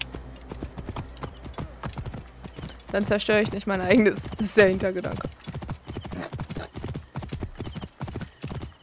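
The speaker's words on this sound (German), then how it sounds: "Komm, wir klauen mal ein Pferd." Rhythmic hoof clip-clops run throughout as a horse moves in the video game Assassin's Creed Origins, with a louder burst of whinnying midway, while someone talks over the top.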